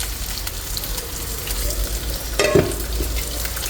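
Greens (shak) sizzle and fry in a pan in a home kitchen, a steady crackling hiss with a brief louder stir or spatter partway through, close and without talk.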